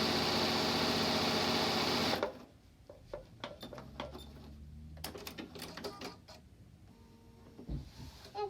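A sewing machine starts with a loud steady whir for about two seconds as it stitches quilt lines, then gives way to quieter clicking, rattling handling noises and brief mechanical bursts.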